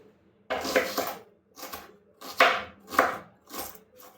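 Close knife strokes cut an apple against a hard board, around six crisp chopping hits in an uneven rhythm, each followed by a short scrape, in a quiet home kitchen.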